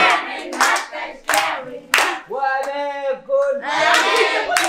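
Group clapping and cheering at a family Ramadan gathering, bursts of hand claps mixed with loud shouted chanting from several people, close and lively in repeated waves.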